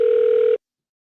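A telephone ring tone sounds once during call placement, a steady electronic tone lasting about half a second and cutting off abruptly into silence.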